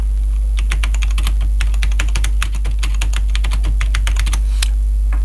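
Someone types quickly on a computer keyboard, filling in an Excel receipt. Dense, close clicking keystrokes run continuously over a constant low electrical hum.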